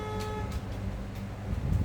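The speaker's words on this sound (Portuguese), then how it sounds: "Buzina." A car horn honks briefly twice near the start, tonal and clear, over a low rumble of traffic.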